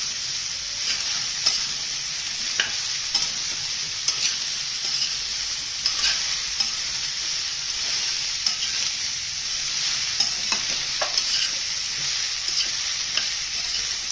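Chopped red pumpkin with a pinch of turmeric sautéing in a pan gives a steady, even sizzle, broken by frequent light spatula scrapes and taps, with no talking.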